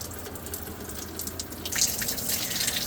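Clean water trickling at low pressure through an RV's fresh water line, a steady broadband rush that grows a bit louder and splashier partway through, with no talking.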